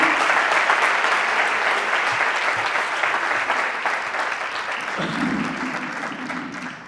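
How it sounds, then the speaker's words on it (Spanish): A large audience at a lecture hall conference on addiction prevention gives a loud, sustained round of applause for parents, a dense wash of clapping that fades gradually and ends with a low voice rising near the close. "quiero que le deis un aplauso bien fuerte a todos los padres y madres"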